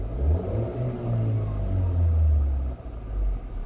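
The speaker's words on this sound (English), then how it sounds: "Nice engine sound." A Mahindra XUV700 engine revs in low, throaty rises and falls, a close rumbling drone swelling and easing through several surges, with no talking over it.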